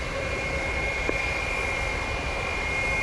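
Airbus A330 jet engines at Montego Bay airport in Jamaica, a steady, sustained roar with a constant whine, heard from a distance, unbroken across the clip, with no talk.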